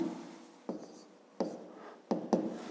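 Pen or pencil strokes write numbers by hand for a fifth-grade math exercise, with four short, close scratches spaced about half a second apart.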